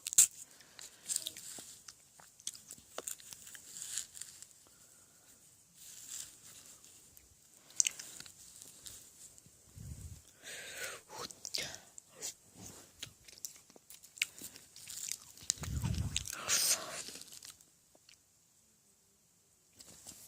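Someone eats red bean shaved ice (patbingsu), with soft close-up crunching and chewing of icy mouthfuls coming in scattered bursts amid quiet pauses.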